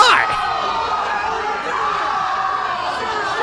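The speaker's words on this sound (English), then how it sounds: "The crowd is absolutely disgusted here" A pro wrestling crowd reacts with a loud, sustained mass of shouting and jeering voices, steady throughout without a clear peak.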